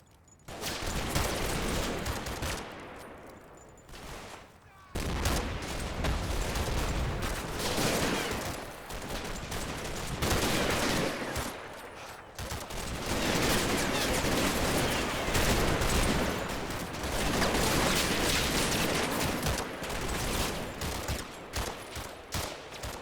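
Sustained machine gun fire and scattered rifle shots rattle through a Combat Mission video game battle, dense volleys continuing for long stretches with brief lulls, loud and continuous.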